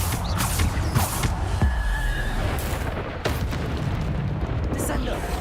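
Bombarda spell explosions in the video game Hogwarts Legacy, heavy booming blasts over a dense, steady wash of game noise, with voices talking throughout.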